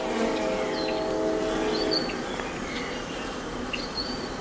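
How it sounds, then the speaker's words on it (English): Honey bees buzz on a hive frame where one performs a waggle dance, a dense, steady hum of many wings close by that stays even throughout, with no talking. "here's a waggle dance right here. She's telling them where this pollen and nectar source is."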